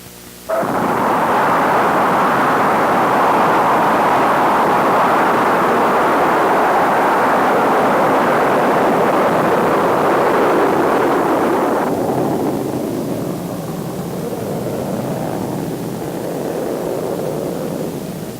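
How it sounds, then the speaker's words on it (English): Gemini VIII launch vehicle rocket lifting off the pad in 1966, a loud sustained broadband roar that starts abruptly and holds steady for many seconds before easing slightly, with wind-like rumble throughout and no talk. "the Gemini launch vehicle began lifting off the pad"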